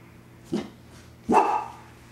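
A dog barks twice at close range in a quiet home, first a short yap and then a longer, fuller bark.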